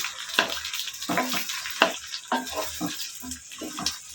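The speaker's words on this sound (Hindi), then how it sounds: "हमारा ऑयल अब गर्म हो चुका है। इसमें मैं भिंडी डालने लगी हूँ।" Okra dropped into hot oil for a Desi-style masala bhindi, crackling and sizzling in bursts with repeated splashy pulses, close and fairly loud, no talking.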